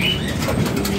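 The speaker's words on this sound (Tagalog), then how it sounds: "magpapalipad tayo ng kalapate para medyo ganado naman yung mga ibon natin" Pigeons are released and burst into flight with a quick, close flurry of flapping wings lasting about a second.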